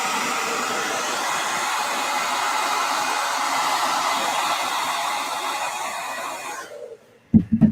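A blow dryer runs with a steady, loud rushing whir close by for about seven seconds, then cuts off abruptly, leaving a brief knock or voice at the end.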